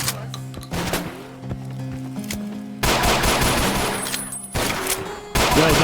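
Video game gunfire: loud bursts of rapid automatic shots in several volleys separated by short gaps, over a steady in-game hum, with no talk.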